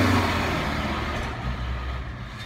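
Loud truck rumbling past on a nearby road, a steady heavy engine drone with strong low-end that stays close and fairly even for the whole stretch, no talking over it.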